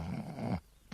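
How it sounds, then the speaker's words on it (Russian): Cartoon character Homer Simpson snoring in The Simpsons, a loud, rough, rumbling snore lasting over half a second, then a brief quiet gap before another snore begins. "Ты теперь храпишь и наяву?"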